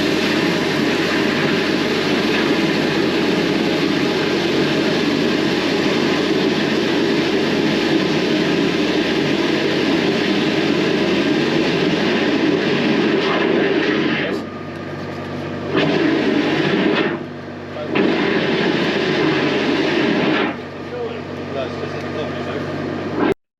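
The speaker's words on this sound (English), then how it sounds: "we're going to jet up about 2000 psi and see if we can clear that internal blockage" A high-pressure sewer jetter at about 2000 psi runs with a loud, steady roar while clearing an internal drain blockage, then cuts in and out in short bursts near the end.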